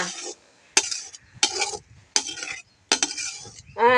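Repeated scraping strokes of a utensil scooping wild mushrooms against a pan, about five separate scoops with short pauses between them.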